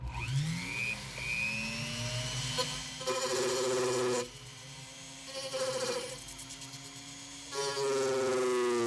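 Rotary tool with an abrasive cutoff disc cutting a 3D printed handle mod: a steady, close, high-pitched whine that repeatedly bogs down and rises again as the disc bites and eases off, with no talking.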